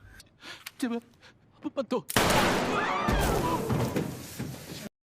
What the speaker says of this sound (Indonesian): beberapa pemain yang tak sengaja merusak simbolnya pun langsung ditembak mati di tempat